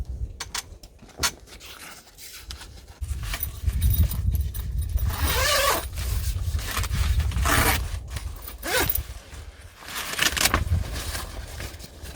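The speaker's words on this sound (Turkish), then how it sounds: "fermuarımızı ucunu buradan ilk yarı fermuarı geçiriyoruz." A zipper on a car rooftop tent being drawn closed, long rasping scrapes close by with fabric rustling and handling knocks between pulls, no talk over it.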